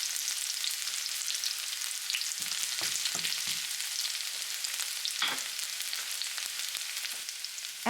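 Sliced shallots and garlic sautéing in a pan, a steady close sizzle and crackle with occasional stirring scrapes and light clinks, no voices.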